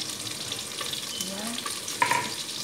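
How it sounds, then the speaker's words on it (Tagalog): Beef for a curry goes into a hot pan, where a steady broadband sizzle of frying runs throughout, with a brief louder crackle near the end. "So ayan na guys, ilalagay na natin ang meat."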